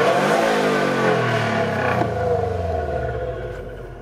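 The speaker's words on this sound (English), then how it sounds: "Now, I'm just going to give it a rev for you guys." A 2018 Subaru WRX STI engine revs up loud and close, a strong swell that peaks around the middle and then falls away with the turbo spooling down, no talk over it.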